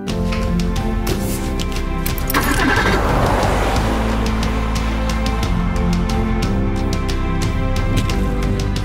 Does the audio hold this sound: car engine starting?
yes